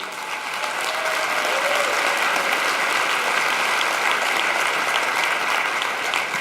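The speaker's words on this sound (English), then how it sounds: "I think we all owe Matt and Jason a huge round of applause for what they do" A large live audience at a podcast event about Amazon business gives a sustained, dense round of applause, loud and even from start to finish with no talking over it.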